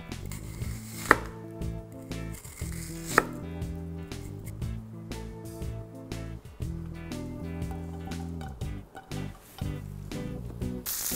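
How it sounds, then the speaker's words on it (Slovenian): Onions are sliced with a knife on a cutting board, a steady run of rapid, close rhythmic chops with a couple of louder knocks, continuing throughout without talk. "čebulo bom narezal"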